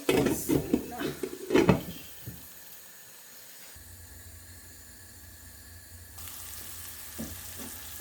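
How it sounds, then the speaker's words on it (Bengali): Onion and spice masala, salted, fries in a small amount of oil in a pan. Close clattering of a spoon against the pan comes first, then a steady low hiss and sizzle settles in. "দিয়া আমি মশলাটারে একটু সময় কষাইয়া নিব"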